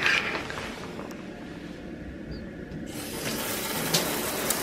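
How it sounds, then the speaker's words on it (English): Shower water runs steadily in a bathroom during an evening routine, a soft, even hiss with a brief quieter dip partway through, then a fuller spray with a couple of faint knocks, no voices. "But I'm just gonna hop in the shower."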